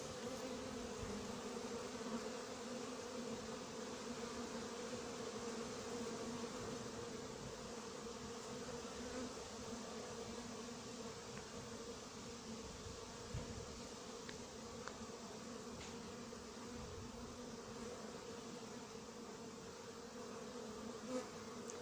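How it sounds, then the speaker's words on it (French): A hornet buzzes steadily near an anti-hornet tent, flying and hovering in place for a long stretch. Its drone is continuous and fairly faint against a quiet outdoor background. "Donc c'est un frelon qui vole, qui fait du surplace et qui s'épuise pendant longtemps"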